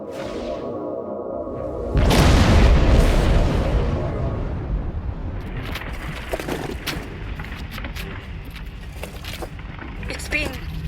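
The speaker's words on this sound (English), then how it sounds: "We need to get closer to the Borg cube to detonate the protomatter." A protomatter detonation at a Borg cube in the Star Trek Online video game: a sudden loud blast that rumbles and fades into whooshing debris and scattered crackles, with voices talking over it.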